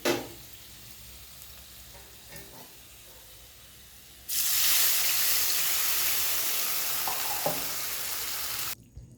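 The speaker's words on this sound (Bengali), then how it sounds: "মশলাটাও একটু ফ্রাই হয়ে যাবে, আলুর সঙ্গে কষানো হয়ে যাবে।" Spices and potatoes fry in oil with a soft crackle that jumps into a loud, steady broadband sizzle partway through, holding strong before cutting off abruptly near the end; no one speaks.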